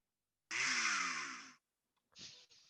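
A loud, rough motorized buzz like a chainsaw or motorcycle engine roars for about a second, then cuts off. A shorter, fainter burst follows after a brief silence.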